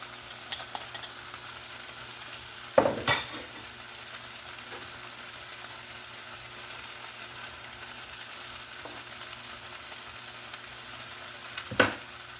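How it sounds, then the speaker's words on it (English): Onions sizzle quietly and steadily in a pan while beef and broccoli are cooked, with a couple of sharp utensil scrapes or clanks against the pan standing out. "I'm going to put the rest of my onions in."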